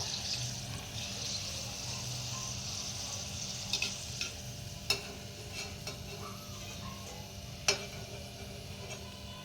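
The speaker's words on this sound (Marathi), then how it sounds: "दोन्ही बाजूनी एकदम छान तळून घ्यायचे आपल्याला" Sabudana and potato chakli fry in hot oil with a constant low sizzle and a few faint clinks and taps, heard close and alone.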